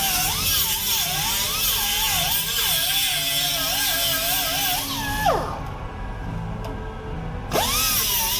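A power grinder wails against a car body panel as it removes an old weld, its pitch wavering under load. It then spins down in a falling whine and spins back up near the end.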